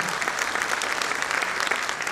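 Audience at an Urdu literary gathering, an anniversary celebration in Indore, claps for the organising committee, a brief, steady, dense roll of applause at even loudness with no speech over it.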